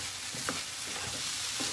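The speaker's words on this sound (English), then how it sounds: "You fry the ingredients." Ingredients fry with sesame sauce in a pan, giving a soft steady sizzle broken by a few quiet stirring scrapes and taps close by.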